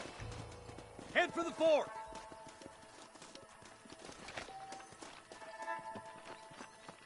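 Horses in the Red Dead Redemption video game clip-clop on the ground and one gives a whinny early on, with someone speaking over the hoofbeats and faint game ambience behind.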